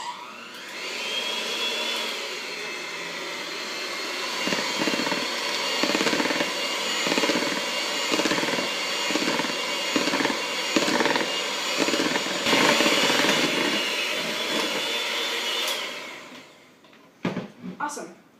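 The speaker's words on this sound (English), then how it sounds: "So, we now have a mixer already, and we're just gonna beat it until it looks really nice and mixed together." Electric mixer beating cake batter in a home kitchen, a steady whirring drone running for about sixteen seconds with slight pitch wavering, then cutting off, followed by a few brief knocks.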